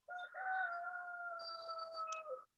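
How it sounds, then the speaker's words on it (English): A single rooster crows once, a sustained tonal call lasting a couple of seconds, close and clear against a quiet background. "We have chickens."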